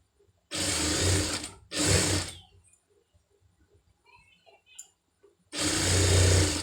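A sewing machine stitches thread piping onto a blouse in three loud, steady bursts, two short ones close together near the start and a longer run at the end, separated by quiet pauses with faint handling clicks.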